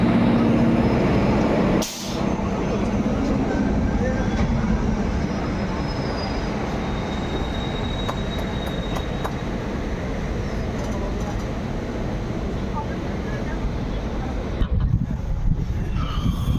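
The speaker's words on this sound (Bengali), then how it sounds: "বেরিয়ে গেছে ট্রেন আসানসোল স্টেশন থেকে।" A train leaving Asansol station rumbles and rolls along the tracks in a loud, steady drone, with a brief clunk early on and faint metallic squeals.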